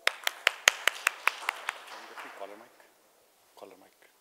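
A round of claps from a small audience welcoming Mr. Chandak to the stage, about a dozen sharp, evenly spaced hand claps that fade out, followed by a brief murmur of voices.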